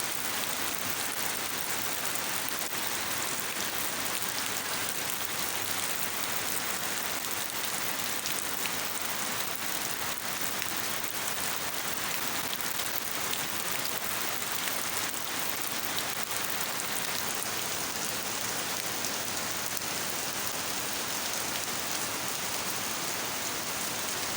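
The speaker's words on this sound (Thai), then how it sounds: "คลิปฝนตกนี่แหละพี่น้อง" Steady rain falls continuously, a dense hiss of drops on surfaces with no pauses, close and fairly loud throughout.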